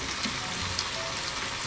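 Seasoned filling for Jamaican stuffed dumplings browns in a pan, giving a steady, soft sizzle and fry hiss with a few faint stirring scrapes, heard alone with no talk.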